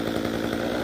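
A chainsaw cuts down a coconut tree, its engine holding a loud, steady, unbroken drone for the whole short stretch.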